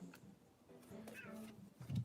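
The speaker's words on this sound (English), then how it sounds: "Did you hear Kitty meow?" A cat meows once, a short near mew at the end, over low background noise inside a car while people open Pokémon card packs.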